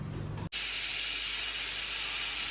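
Pressure cooker of boiled dal opened, a sudden loud burst of steam that settles into a continuous close, steady hiss.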